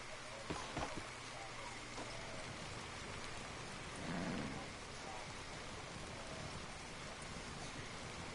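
Rain falls steadily in the Red Dead Online video game, a constant hiss of drops on surfaces with a low roll of thunder partway through.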